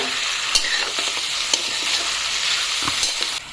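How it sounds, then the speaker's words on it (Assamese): Ginger and garlic frying with pork in a pan, a bright continuous sizzle broken by the scrape and clack of stirring utensils at irregular moments. "তো আদা নহৰুখিনি মাংসৰ লগত অলপমান বঢ়িয়াকৈ ভাজি ল'ম প্ৰথমতে।"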